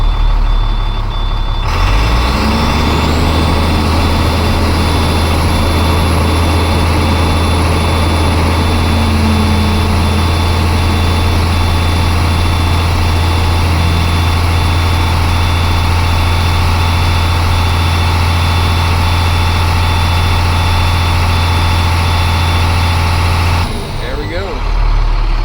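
A DT466 diesel truck engine idles in a loud, steady low rumble with a high whine on top, running continuously for about twenty seconds close by after building air pressure.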